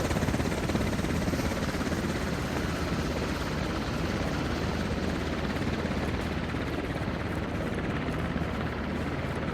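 Enemy helicopters in a video game produce a loud, continuous rotor roar with rapid blade chop that stays steady and close throughout.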